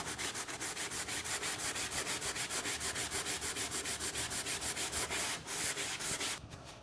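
Brush strokes applying an antique finish to a small 1960s furniture hinge, a rapid, even, scratchy rubbing rhythm close up that stops near the end.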